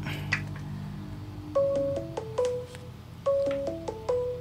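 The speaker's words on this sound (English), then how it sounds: "those of you who know the sound of Hangout, you will know that we are ringing Sitawa now" Google Hangouts outgoing call tone on a radio podcast broadcast: repeated melodic beeping phrases in two clear bursts with short pauses, moderately loud and alone with no talk over it.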